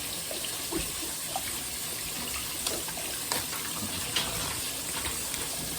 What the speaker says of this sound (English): Green pepper. Wash it off.